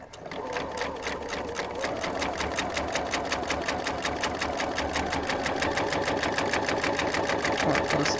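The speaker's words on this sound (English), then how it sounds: "I'm just going to sew on the" A sewing machine stitches fabric potholder blocks along a drawn line. Its needle makes a fast, steady mechanical chatter at close range that speeds up slightly and runs unbroken for the whole stretch.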